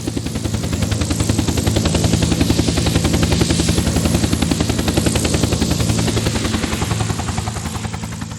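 A Huey helicopter fitted with side-mounted M60s in the Squad Vietnam video game, its rotor thumping in a rapid, steady chop that stays loud and close throughout, with no talking.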